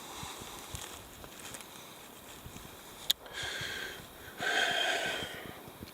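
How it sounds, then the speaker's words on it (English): Heavy, excited breathing from a person outdoors examining agate and quartz rocks, soft puffs and snorts close to the microphone with a few louder rushes of breath. "apologize for any heavy breathing that's happening"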